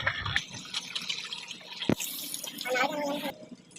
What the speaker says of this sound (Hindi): ये हमने नमक लगा के जो करेले रखे हुए थे वो इसको हम अच्छी तरीके से वॉश करेंगे